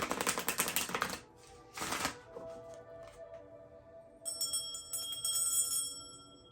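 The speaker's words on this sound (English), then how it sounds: "begin to shuffle the cards" Cards of the Raja Tarot deck being shuffled: a long, dense riffling burst, then a shorter second one, followed by quiet ringing tones.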